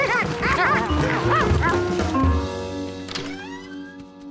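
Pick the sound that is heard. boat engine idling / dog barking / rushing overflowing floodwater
dog barking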